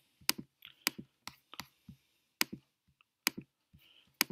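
Light taps on a computer keyboard form a quiet, sparse sequence of separate key clicks in short irregular bursts with brief pauses between them.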